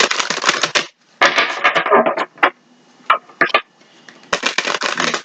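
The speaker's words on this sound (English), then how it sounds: "Give her a couple shuffles." Tarot cards being shuffled in several quick riffling bursts separated by pauses, close and crisp, with a few single taps between.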